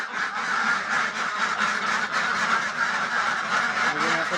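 A flock of Pekin ducks on a duck farm in Cumilla keeps up a dense, continuous honking and quacking chorus, loud and close, with no pauses.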